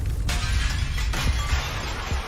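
Glass shatters sharply in a Channel 4 ident, the loud crash followed by a second burst of breaking and scattering fragments over a dense, full background.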